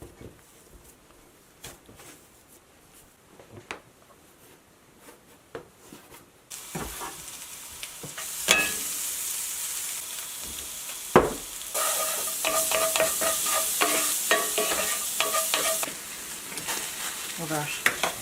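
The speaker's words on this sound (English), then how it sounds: "Oh, it's boiling now." A pot of water comes to a boil on a cabin kitchen stove, ready for gnocchi: a quiet stretch gives way to a steady, loud hiss of rolling bubbles with scattered pops and a clink or two of pots.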